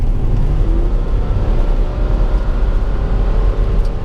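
A 2005 Ford Freestyle, a 4,000-pound car with a 200-horsepower engine, accelerates from about 39 mph. Its engine and road noise make a loud, steady drone that runs through the whole stretch.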